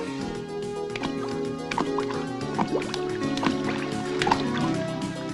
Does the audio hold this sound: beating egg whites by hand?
no